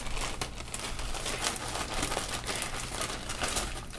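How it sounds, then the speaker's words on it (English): A plastic bag holding a roll of plastic 3D-printer filament crinkles and rustles steadily up close as a hole is punched through it, a dense, continuous crackle without speech. "Just punch a hole in the bag"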